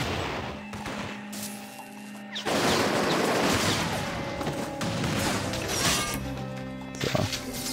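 Grenade explosions in the video game inFAMOUS 2 merge into a dense, loud barrage of blasts and crashing debris, with a sharp jump in intensity partway through and a cluttered game soundtrack underneath.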